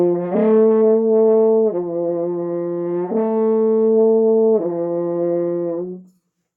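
A French horn alternates between two sustained brass notes, low C and higher E, four long tones in turn with clean changes between them, played alone and fairly loud.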